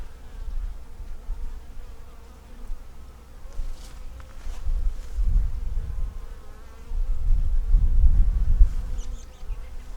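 Honey bees hum in a steady, close, dense drone at an open beehive holding a hatched queen cell, swelling louder in waves with no voices.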